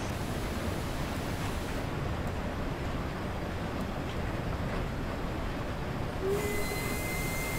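A steam locomotive blowing off steam on the Peak Forest Railway in the Train Sim World 3 game: a loud, continuous broadband hiss that runs unbroken throughout. A faint whistle-like tone and a slight change in texture come near the end.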